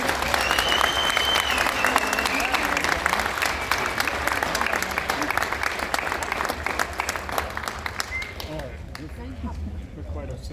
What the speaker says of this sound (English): Can we have a round of applause for these guys?